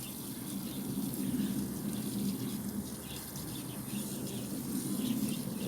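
Garden plants being watered in with a spray on a hot day at a UK allotment after replanting, a continuous soft hiss of spraying water with faint birdsong in the background.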